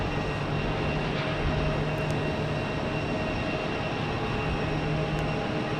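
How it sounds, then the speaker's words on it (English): Honeywell test aircraft at Phoenix airport, a continuous broad engine roar with steady whine tones, sustained and fairly loud at a distance with no talk. "they use all those different aircraft, their test aircraft"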